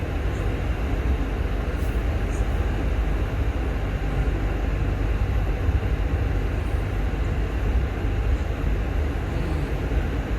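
A steady, continuous low rumble of an Indonesian passenger train in motion, heard from inside, with broadband rolling noise and no talking.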